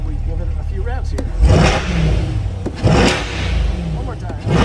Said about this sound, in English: I'll make sure we give it a few revs here.